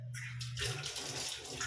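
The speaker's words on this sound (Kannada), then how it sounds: "ಎಲ್ಲ ಮಿಕ್ಸ್ ಮಾಡಿ ನೀರು ಹಾಕಿದ್ಮೇಲೆ" Water poured into a cooking pot while making tomato rice bath, a short, soft splashing gush that starts after a brief pause and continues quietly to the end.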